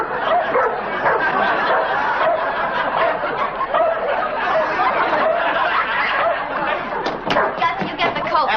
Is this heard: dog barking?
yes